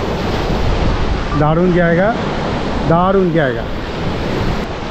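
Sea waves wash continuously onto an empty beach on Swaraj Island in the Andamans, a steady broadband surf rush with wind, while someone talks over it.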